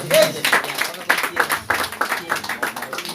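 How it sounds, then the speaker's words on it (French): A church congregation clapping loudly and cheering in praise at a Christian worship service, with dense rhythmic claps and raised voices filling the room for a few seconds. "Voilà, on acclame très fort le Seigneur"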